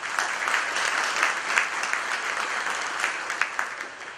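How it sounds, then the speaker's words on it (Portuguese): An audience at a real-estate seminar applauds steadily for about four seconds, dense clapping holding at an even level with a few sharper claps standing out. "eu queria até uma salva de palmas para o Genário"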